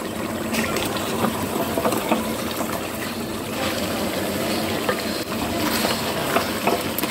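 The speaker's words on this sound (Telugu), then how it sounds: "వేసుకొని బాగా మసాలా పట్టేలాగా కలబెట్టాలి" Mushroom biryani masala being stirred in a pan at home, a steady close scraping and sizzling texture with faint clinks, continuous for the whole stretch with no talking.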